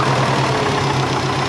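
A compound-turbo Subaru Forester engine idling steadily up close, with a low rumbling pulse and a faint puffing tick from an exhaust leak at a V-band clamp underneath.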